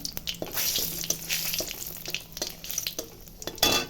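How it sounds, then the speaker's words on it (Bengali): Oil sizzles steadily in a pan with a bright hiss as dried red chillies and nigella seeds fry in it, broken by occasional clinks and scrapes of stirring. "এখন ওই তেলেই শুকনো লঙ্কা, কালো জিরা ফোড়ন দিব ঝোলটা করার জন্য"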